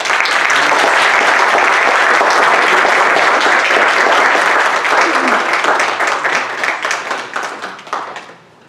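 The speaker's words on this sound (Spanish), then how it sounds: "a quien pido un aplauso de bienvenida" Welcoming applause from an audience at a book presentation on breast cancer and mastectomy, a dense, loud sustained clapping from many hands that thins out and fades toward the end.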